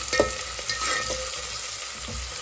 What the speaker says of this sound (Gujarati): આપણે નાખી દીધી ડુંગળી ડુંગળીને ઘડીક વાર ખાવા દઈશું